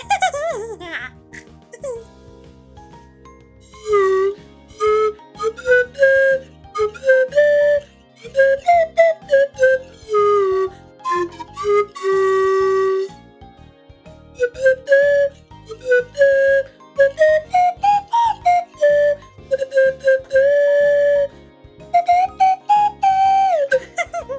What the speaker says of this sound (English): I just picked up the slide whistle and I was like, you guys are gonna want to hear this, right?